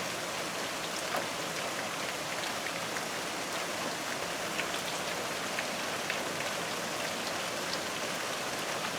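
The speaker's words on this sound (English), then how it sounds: "It's supposed to rain all day." Steady, dense rain falls without pause, a constant hiss of drops pattering on surfaces with no voices or other sounds.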